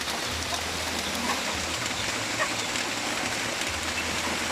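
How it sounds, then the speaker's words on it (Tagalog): Rain falls over a free-range area for native Zampen chickens, a steady, even hiss of drops with a low hum underneath, moderately faint and continuous, with no voices. "Yan maulan."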